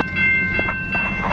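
A CPKC freight train rolls through the Wilderton Street crossing in Montreal, a steady close rumble of wagons with a sustained horn tone running throughout.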